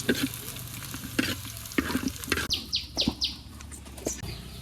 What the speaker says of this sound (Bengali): কড়াইতে তেল দিয়ে দিলাম রসুন কুচি দিয়ে দিলাম